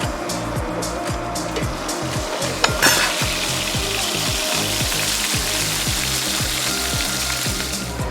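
Lobster and prawns sizzle on a barbecue at a Maldives dinner, a continuous crackling fry with a rhythmic scraping pulse underneath and one sharp clink partway through.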